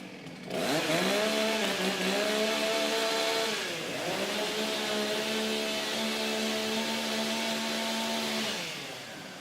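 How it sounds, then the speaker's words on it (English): Several chainsaws rev and hold a loud, steady whine at a STIHL Timbersports championship warm-up, pitch dipping briefly mid-way before climbing again and tailing off near the end, with no speech. "Warm up your saws!"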